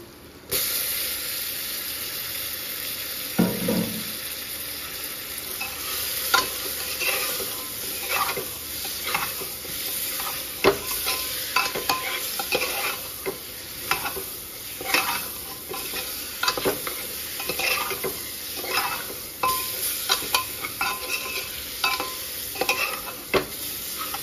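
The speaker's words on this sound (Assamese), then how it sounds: "দি দিম এতিয়া মাংস কিটিকুৰা।" Chicken pieces are tipped into a hot pan of spiced masala with coriander powder for chicken pulao, then stirred steadily. Continuous sizzling and frying hiss sit under repeated scraping stir strokes, with no talking.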